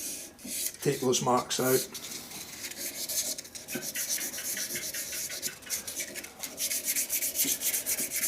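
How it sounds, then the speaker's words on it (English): Sandpaper rubbing against a turned shaving brush handle spinning on a lathe, a steady close rasping with a brief voice at the start and light scratchy texture throughout. "not a lot of pressure on the sandpaper either, because you find if you put a lot of pressure on it, you actually create scratches"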